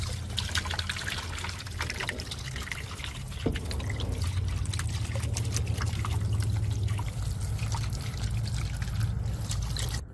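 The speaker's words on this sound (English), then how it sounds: "clean all of that off and clean all of that out with a water hose" Water from a garden hose pours and trickles steadily as it rinses debris from the clogged filter of an AIPER Scuba SE robotic pool cleaner, a continuous close splashing flow with no talk.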